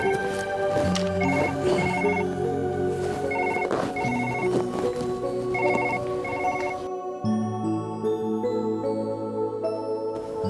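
A telephone rings repeatedly in a domestic setting, its trilling tone loud and steady before giving way to a lower sustained tone near the end, with no talk over it.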